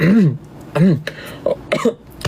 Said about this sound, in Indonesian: Duh, batuk guys.